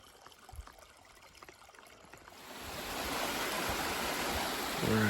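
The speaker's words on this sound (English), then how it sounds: "we get it back across this little creek" A small creek flows in Pisgah National Forest, its rushing water swelling from faint to a steady, full hiss as it draws near, with a few footsteps and scuffs early on.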